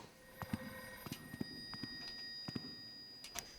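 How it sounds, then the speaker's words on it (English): A telephone rings faintly inside a library in a video game, sounding as a series of short, quiet, repeated chimes over a low ambient hum. "There's a phone ringing."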